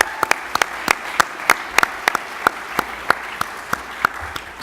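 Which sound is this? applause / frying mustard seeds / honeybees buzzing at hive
applause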